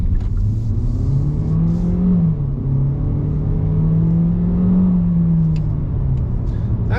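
A 2020 Hyundai i30 engine drones from inside the moving car, a steady mid-pitched hum with slight rises and falls as the revs shift, loud and continuous over road rumble, and no one talks.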